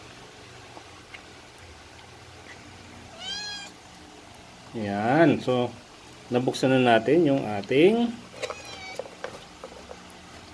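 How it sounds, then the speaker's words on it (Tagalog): A cat meows repeatedly, begging for functional cat supplement treats, in several close, drawn-out cries mixed with a person talking nearby. "nandito na yung pusa nating isa. Yan. Nanghihingi na rin siya."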